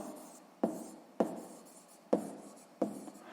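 A pen writes numbers by hand on paper for a sixth-grade math exercise, with four sharp strokes or taps at a steady pace, close and quiet with no talking.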